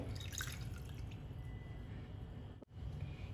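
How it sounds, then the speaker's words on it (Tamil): Water trickles and drips into a bowl of curd for Kerala-style moru curry, a soft continuous liquid splashing with a brief pause near the end before the trickle resumes. "நான் இப்போ எந்த அளவுக்கு தயிர் எடுத்தேனோ அந்த அளவுக்கு தண்ணியை நான் அதுலேயே நான் சேர்த்துக்கிறேங்க."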